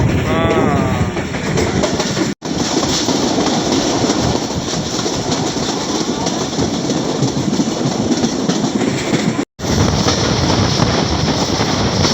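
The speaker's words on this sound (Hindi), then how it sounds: "यहाँ पे बल खा के ट्रेन तो ऊपर चढ़ती है।" Awam Express passenger train running on rails between Lahore and Taxila, a loud steady rumble with rhythmic clickety-clack of wheels over rail joints, continuous and close, with two brief dropouts.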